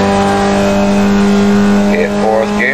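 A Formula Vee race car in the iRacing sim at Lime Rock held at full throttle, a loud steady engine drone filling the whole stretch with a slight pitch shift near the end.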